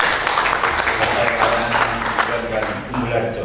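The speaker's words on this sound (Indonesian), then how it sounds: "Kita beri tepuk tangan" Steady applause from an audience at a regional work meeting of a charity organization, broad and continuous clapping throughout, with voices mixed in.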